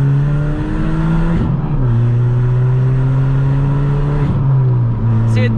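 Ford Fiesta MK6 Zetec S 1.6 fitted with a Hornet straight pipe exhaust, droning steadily under load from inside the car with two brief dips as gears shift, loud and continuous.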